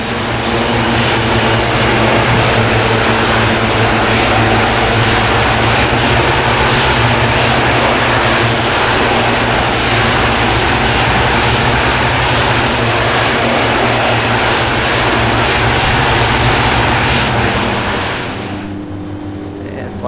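Twin Otter seaplane in the Aerosoft flight simulator over Alaska, its twin propeller engines droning loud and steady with constant tonal hum for most of the clip before the sound drops off sharply near the end.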